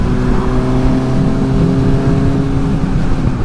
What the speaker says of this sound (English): this Translogic Quickshifter is easily as smooth as the standard one on that new GSX-S1000